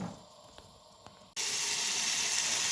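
Tempering poured into a pot of cooking mung beans: a quiet low stretch, then a sudden loud, steady hiss of sizzling that holds to the end without any voices.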